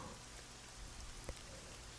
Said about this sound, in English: The rain keeps falling, and I keep talking.